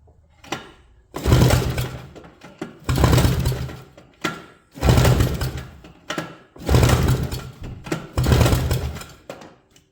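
A 1987 Trail Boss engine cranks over during a compression test. It comes in five loud, evenly spaced bursts of chugging mechanical turnover, each about a second long, with short silent pauses between them.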